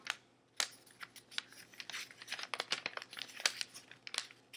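A sheet of paper being folded into an origami crane, with steady crinkling and crisp creasing rustles close by, in quick irregular bursts with no voices.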